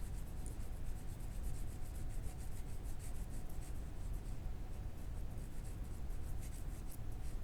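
A pencil lightly shading on paper with barely any pressure, a soft, continuous scratchy rubbing that stays faint and even throughout, heard alone up close.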